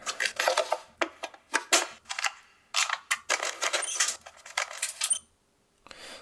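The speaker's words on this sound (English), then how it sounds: "Gun cocking." Gun-cocking effect from a drum and bass sample pack: a string of sharp, bright metallic clicks and clacks in quick bursts, fairly close, with a short silence near the end before a final snap.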